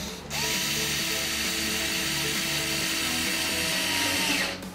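A Xiaomi Mijia MJDDLSD001QW electric screwdriver drives a screw into wood with a steady, close motor whir that starts and stops abruptly and holds for about four seconds.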